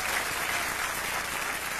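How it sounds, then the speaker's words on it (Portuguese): A church congregation claps loudly for Jesus, a thick and even wash of applause with no one speaking. "Um aplauso poderoso para o Senhor Jesus"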